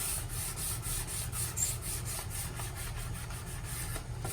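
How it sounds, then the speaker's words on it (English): Steady, soft rubbing of sandpaper over a maple wooden cutting board, a continuous scratchy hiss with faint rhythmic strokes, close and quiet. "It doesn't need a lot of sanding. Just a little bit."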